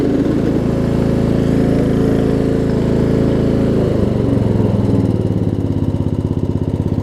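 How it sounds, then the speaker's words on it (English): Murray riding lawn mower engine running loudly up close, a steady mid-pitched drone that shifts down around the middle and settles into a rhythmic, pulsing idle. "running mower that I've been sitting on for about 2 months"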